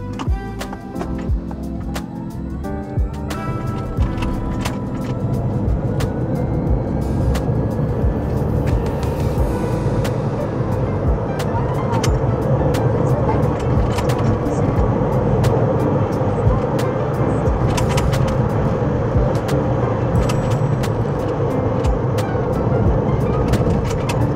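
A VinFast VF3 small car pulls away from standstill and speeds up toward 100 km/h, a steady rising road rumble and cabin drone with tire and wind noise. The sound holds loud and continuous, with no one talking.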